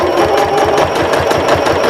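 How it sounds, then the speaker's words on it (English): Sewing machine stitching a zipper onto a tote bag, a loud, steady rhythmic whir with a fast repeating needle thump, close up and continuous with no voices. "we're just going to go ahead and stitch this through"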